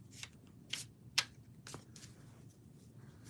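A deck of tarot cards being shuffled by hand, heard as a quick series of soft, papery riffle bursts at an uneven rhythm, close and fairly quiet with no talking.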